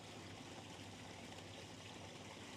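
Water splashes steadily from a carved stone bowl hung by a chain onto stone faces below in a koi pond garden, a faint, continuous wash with no breaks and no voices.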